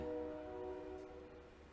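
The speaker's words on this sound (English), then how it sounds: "Train that everybody always hears." A train horn sounds a steady held chord, a commuter line to Chicago passing less than a block from a backyard, loud and sustained for the whole moment with a low rumble beneath.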